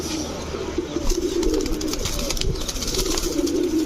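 A female fancy pigeon coos close by in a steady, low warbling drone, with faint rustling and fluttering around it.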